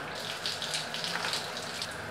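A shower runs in a steady, soft hiss of falling water, moderately close and uninterrupted, with no voices.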